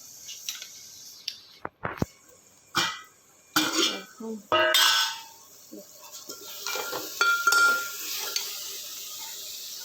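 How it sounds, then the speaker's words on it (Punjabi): Tempering frying in a pan for a potato pakora curry, with sharp scraping stirs and utensil knocks between bursts of sizzling, then a steadier sizzle up close, and no clear talk. "ਆਲੂ ਪਕੌੜੇ ਦੀ ਸਬਜ਼ੀ ਨਾਲ ਤਾਂ ਤੜਕਾ"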